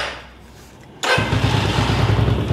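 A motorcycle engine with a weak spark from a faulty stator sputters to life after about a second of quiet, then runs at a steady, close, fairly loud idle.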